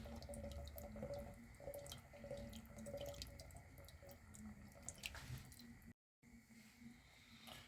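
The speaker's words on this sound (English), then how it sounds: "there goes the evaporated milk" Evaporated milk pours from a can into a pot for creamy rice pudding, heard as a quiet, continuous liquid trickle with soft splashes, close by, followed by a brief dropout.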